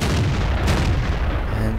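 Tank cannon fire in the video game World of Tanks, a loud, dense booming rumble with a sharp crack near the middle, filling the whole moment without speech.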